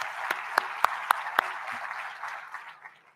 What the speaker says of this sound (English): I think he deserves a round of applause from all of us